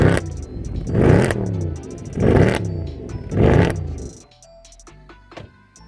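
A Mercedes E63 AMG with a naturally aspirated eight-cylinder engine gives four loud, close rev blips in a row, each rising and falling, then drops back to a quiet idle.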